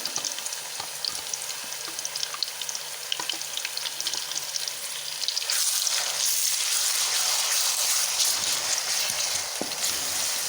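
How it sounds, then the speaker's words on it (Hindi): Finely chopped onions, three of them, frying and sizzling in hot oil in a karahi for fish karahi, a steady close hiss that swells louder halfway through as they are stirred, with no talking. "अब मैं इसमें डालूँगी, ये मैंने 3 अदद प्याज लिए हैं जिनको मैंने बारीक चॉप कर लिया है।"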